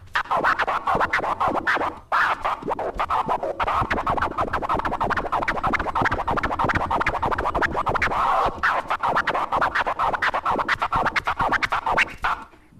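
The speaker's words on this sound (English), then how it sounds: "So that's the one-click flare." Continuous DJ turntable scratching with rapid one-click flare cuts, a dense run of choppy, stuttering scratch strokes that keeps up almost without pause, loud and close.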